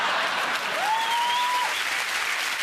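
A studio audience at a British comedy news show applauds loudly and continuously, with a single whistle rising above the clapping.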